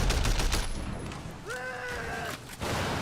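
Gunshots fired at a car's tires in Sleeping Dogs: Definitive Edition crack amid engine roar and driving noise, followed by a rising whine, with a commentator talking over it.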